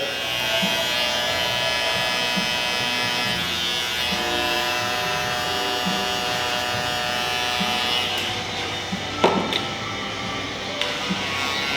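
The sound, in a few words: electric shaver buzzing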